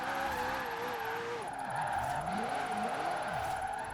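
McLaren 600LT in Forza Horizon 4 sliding and spinning out, a steady loud engine roar with tire squeal and wavering skid tones sweeping up and down throughout, no talk.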